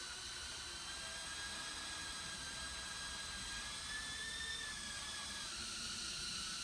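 A quadcopter drone hovers in place on a cushion of air, its motors giving a steady, loud whirring whine with a slight rise in pitch partway through and no voices.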